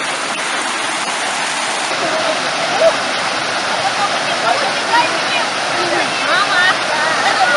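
A waterfall in the forest near Mezmai, in the Apsheronsky district, roars with a steady, dense rush of falling water. The sound is loud and close, with no break across the whole stretch.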